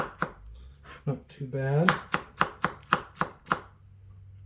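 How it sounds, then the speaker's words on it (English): A Benchmade Station kitchen knife chops through wet celery on a board, a run of crisp, evenly spaced, close thuds following a few irregular cuts, with a brief spoken remark near the start. "celery is pretty easy to cut through"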